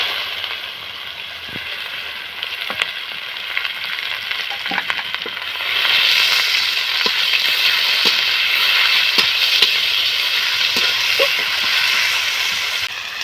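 Chopped onions, salted lightly, frying in a pan with garlic and ginger paste. A steady hiss rises and grows louder partway through, with scattered sharp spatters and pops and no talk.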